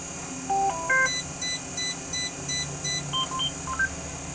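Truck dashboard chiming as the key is turned during an air brake check, with a quick run of rising electronic tones followed by a steady series of about seven evenly spaced beeps, loud and close, with no talking.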